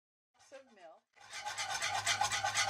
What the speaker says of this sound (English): Now I'm just going to switch to my whisk, and we're going to whisk this in until it's all nice and smooth.